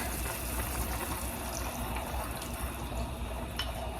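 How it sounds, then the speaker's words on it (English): Cornstarch-and-water slurry poured into a Filipino beef and bitter melon dish with salted black beans, a steady low liquid pouring and bubbling wash with faint drips, close and alone without talk. "Cornstarch and water to thicken it."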